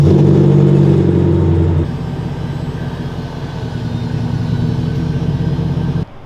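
A partly reassembled car with an outdated interior drives along, its engine droning loudly up close before settling into a steady lower road rumble, cut off abruptly at the end.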